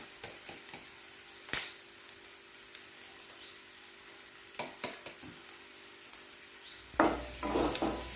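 A spoon stirs onions and green chillies with masala powder in a hot pan for pepper masala egg curry, giving faint scattered scrapes and taps over a low sizzle, with a louder clatter near the end.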